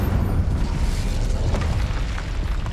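Incendio fire spell cast in Hogwarts Legacy: a dense, continuous whooshing roar of flame with a heavy rumbling low end, loud and steady throughout without pauses.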